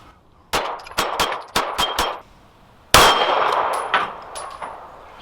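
Pistol shots from a Dan Wesson DWX Compact clang against steel target plates. Two quick bursts of sharp cracks each give off a metallic ring, heard loud and close with no talk.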